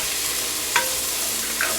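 Ginger garlic paste fries with dark browned onions for goat curry, producing a steady, loud, hissing sizzle with a couple of soft stirring scrapes, no voices.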